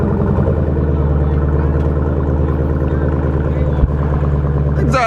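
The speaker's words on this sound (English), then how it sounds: "Exhaust sounds good, but not as loud as my Jeep SRT" A 2018 Dodge Durango SRT idling after start-up, its exhaust giving a deep steady rumble with a strong low hum, close and constant, with one brief knock near the end.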